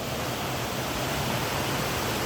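Steady broadband rush of river water flowing in Jamaica, continuous and even throughout with no distinct splashes, close and fairly loud, no voices.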